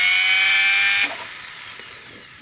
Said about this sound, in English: So put your round burr in your pendant drill, hold it sideways at the point where you want to put your stone,